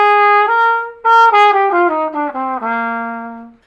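Trumpet plays a short descending line with the flat seventh, clear sustained brassy notes stepping down one after another, close and loud with no talking.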